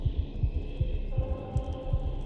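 Repeating heartbeat thumps in a horror video game, a steady double-beat pulse throbbing low and loud over a constant droning hum, with no voices.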